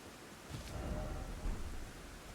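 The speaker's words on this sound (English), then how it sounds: "It's raining." Rain falls steadily in Elden Ring's Abyssal Woods, a dense hiss with a low thunder rumble swelling briefly beneath it, short and alone.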